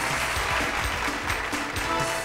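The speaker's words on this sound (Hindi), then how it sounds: "बहुत सारी तालियों में" A studio audience on a television talk show bursts into dense, steady applause, loud and continuous throughout with no break.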